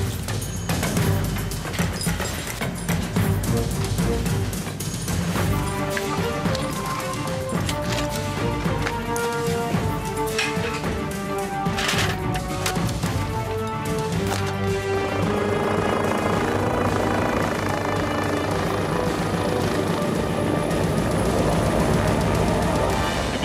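A rescue helicopter of the Chamonix mountain rescue unit spools up for takeoff, a loud continuous rotor and engine roar with rhythmic thumping that stays steady and close throughout.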